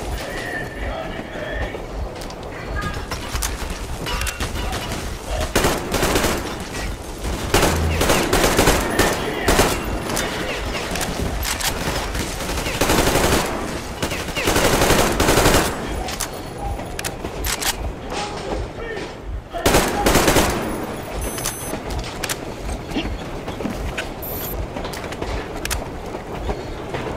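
Gunfire in Metro Exodus: bursts of rapid automatic shots and loud cracks punch through a constant rumbling, clattering train-like background, coming in several clusters over a long stretch.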